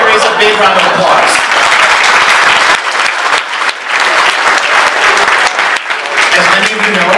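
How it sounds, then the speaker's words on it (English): A packed annual meeting audience gives visiting dignitaries a loud round of applause, dense close clapping running the full length with small dips, some voices mixed in. "Let's give our dignitaries a big round of applause."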